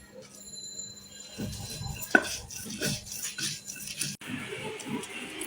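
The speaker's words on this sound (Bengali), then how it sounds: "শুকনা মরিচটা আমি ভাজি নাই, ভাজা ছাড়াই ভর্তা বানাবো।" Unfried dried chili is mashed for a dried fish bharta, producing irregular close thuds, scrapes and light clinks against a hard surface, with a brief sharp knock partway through.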